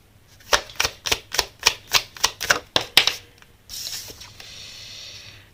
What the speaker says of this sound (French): Je vais continuer à tirer quelques cartes.